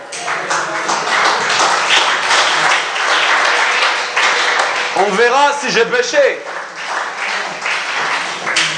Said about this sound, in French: Oui, tu peux applaudir, ça c'est vrai.